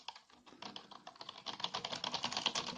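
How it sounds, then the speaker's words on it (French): Rapid typing on a Logitech K400+ wireless keyboard, a continuous patter of key clicks that grows busier and slightly louder toward the end, close and with no voices. "même en tapant comme un bourrin, ça reste honnête"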